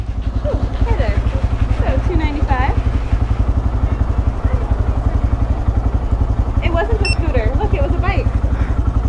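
Honda Grom motorcycle engine idling close by with a steady, fast, putting beat that runs under ongoing street conversation between riders.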